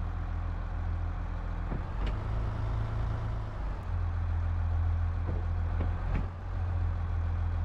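Tractor engine in Farming Simulator 22, a steady low diesel drone running throughout with a few faint clicks and knocks on top, loud and close, no voices.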